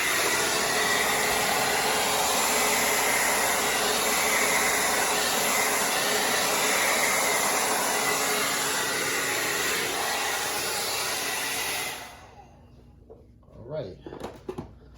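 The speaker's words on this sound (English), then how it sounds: "My blow dryer" A blow dryer runs steadily for about twelve seconds while blowing out jelly in a bloom technique, then cuts off abruptly, followed by a few faint handling sounds.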